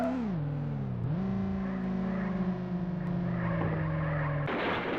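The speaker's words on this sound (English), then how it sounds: "What, you mean the fact that it's a Lamborghini?" A Lamborghini Diablo in the SNES game Test Drive II drives with a synthesized engine whine that drops as it shifts, then holds steady before a harsh skid noise bursts in at the end.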